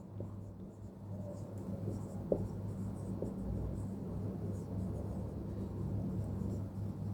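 Faint scratching of lines being drawn on a board during a 10th-grade coordinate geometry lesson, sitting under a steady low room hum with a couple of soft taps and no talking.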